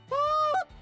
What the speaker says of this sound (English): get the call to break over, and then drop it back down for another moan